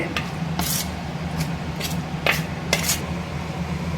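Marinated prawns frying in oil in a clay pot, a constant hiss of sizzling oil broken by several bright clinks and scrapes of a utensil against the pot.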